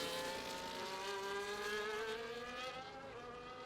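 Williams Formula 1 cars in a racing video game, circuit in Qatar, drive out onto the track together, a loud, continuous high-pitched engine whine rising steadily in pitch as they accelerate, alone without talk.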